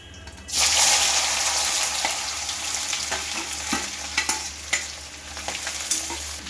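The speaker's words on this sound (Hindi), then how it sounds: "और सोमरस में डाल दिया। अब डालेंगे कुंदरू।" Ivy gourd hits hot oil with cumin and bursts into a loud, steady sizzle that holds throughout, with sharp stirring clicks and scrapes cutting through it near the end.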